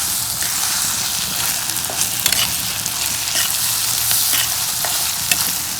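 A cauliflower egg fry sizzles steadily and loudly in a frying pan while a utensil stirs it, with faint scrapes breaking through the continuous close frying hiss.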